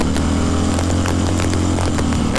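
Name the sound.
1970 Harley-Davidson XLCH Sportster motorcycle engine revving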